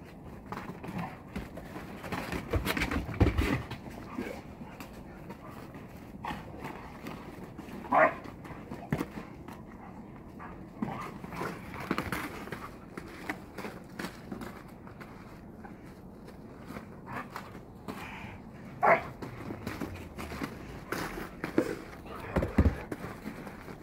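Several dogs run across the ground, their footfalls and scrabbling paws coming in uneven bursts at close to mid range, with a few short yelps or barks mixed in and people calling out between them.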